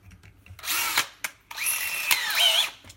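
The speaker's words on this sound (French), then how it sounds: "Donc maintenant, je vais finir le perçage." A power drill bores a hole with a bit that is slightly too small, heard close as two loud bursts of whirring with a short pause between and a rising pitch near the end.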